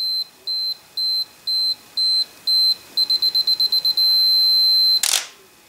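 A vintage 35mm camera's self-timer beeps loudly and close up, first in evenly spaced pulses, then a rapid run of quicker beeps and a steady tone, ending with the shutter's click.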